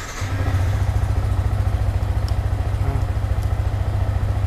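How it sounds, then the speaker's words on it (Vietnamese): A 2021 Suzuki GZ150A motorcycle engine catches and settles into a steady, low, throbbing idle, loud and close, with no talk over it. "Đây em nổ máy cho mọi người hả."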